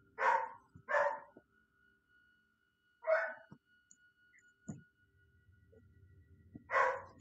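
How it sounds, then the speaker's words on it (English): A dog barks in four sharp, fairly close bursts: two quick barks, a longer pause, another bark, then one more after a quiet stretch with faint background hum. "My dog won't stop barking."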